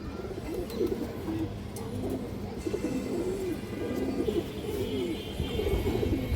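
Several pigeons coo continuously with soft, throaty, overlapping rolling calls, close by over a steady background hum.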